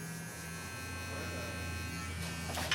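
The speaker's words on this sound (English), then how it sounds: "take the shaver and you go just below that line" An electric shaver buzzes steadily while a barber trims just below a fade line at the sideburns, a close, even motor hum with a slight rise at the end.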